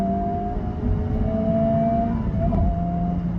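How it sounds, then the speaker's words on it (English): Honda Civic Type R engine pulling hard under acceleration, a steady droning hum with rising tones and a brief dip near a gear change, heard from inside the cabin. "So start in first gear, shift right before red line, ride it out, shift it again."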